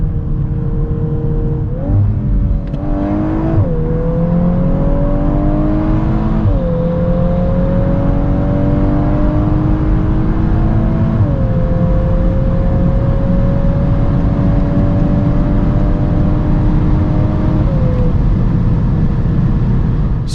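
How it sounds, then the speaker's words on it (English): A Volkswagen Golf 8 R with 320 hp accelerates hard from 100 to 200 km/h on a damp road, its engine note climbing steadily through about five gear changes, each marked by a brief drop in pitch before it rises again. "let's now see how fast the Golf R goes"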